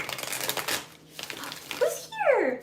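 Tarot cards being shuffled, a papery riffling and shuffling that runs through the clip with a brief pause midway, with a child-like voice or animal squeak near the end.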